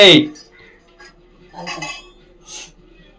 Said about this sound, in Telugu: ఉప్మా గిన్నె ఎత్తుకుంటున్నా